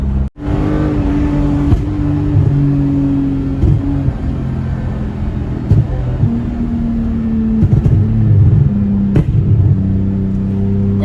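Loud, close engine of a custom Toyota Mark X idling with a deep rumble, revved repeatedly so the pitch rises and falls in several bursts.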